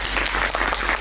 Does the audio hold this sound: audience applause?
yes